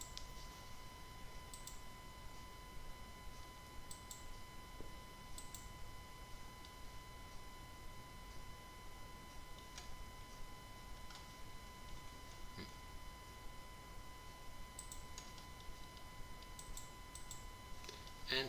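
Sparse, faint computer mouse clicks while PowerPoint animations are set up, scattered singly over a steady electrical hum and background hiss.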